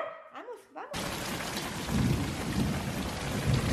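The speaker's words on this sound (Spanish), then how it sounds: "Se vino bien fuerte, amigos. Miren, hasta truenos y relámpagos tenemos." Heavy rain with thunder starts abruptly after a brief quiet moment and then pours as a dense, loud roar, with low rumbles of thunder rolling underneath it.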